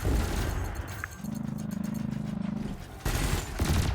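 Spaceship cannon fire in the space game Elite Dangerous: a loud burst of rapid, evenly spaced shots pulsing for over a second, framed by dense roaring engine and combat noise, with no speech.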